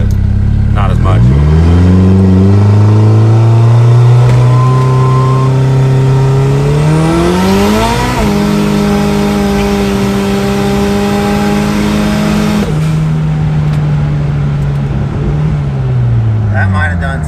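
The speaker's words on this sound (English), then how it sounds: "Or I'll do a launch, but not as much." A street car in Mexico launches hard from a foot-brake start, the engine revving up in rising pitch with heavy wheelspin as it pulls away, loud and close throughout.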